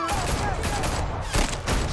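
A short fusillade of gunfire in Batman: The Telltale Series video game crackles as a dense volley of overlapping shots under a busy game soundtrack.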